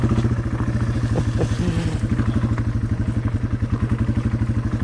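A dual-sport motorcycle, a Yamaha TW200 or Kawasaki KLX250, chugs at low speed through a tight full-lock turn, its single-cylinder engine thumping in a loud, steady, even rhythm close by with no voices.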